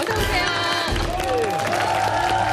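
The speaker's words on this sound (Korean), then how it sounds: "여러분 큰 박수로 맞아주시기 바랍니다" A television studio audience greets an arriving guest with a loud, continuous burst of clapping and cheering, with bright musical tones running over the crowd noise.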